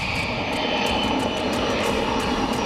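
An A-10C Thunderbolt military jet lands at an airbase in Suffolk, its engines giving a loud, steady roar with a rough, pulsing edge throughout and no voices.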